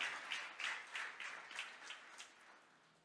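A church congregation applauds during a sermon, soft, fairly distant clapping with a loose rhythmic pulse that slowly fades over about three seconds.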